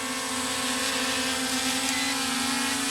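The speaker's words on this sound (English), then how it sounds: "we'll hit the takeoff button, and then it takes off" A Holy Stone HS720 drone's rotors whine steadily at close range, a loud sustained buzzing hum with no break, no voices.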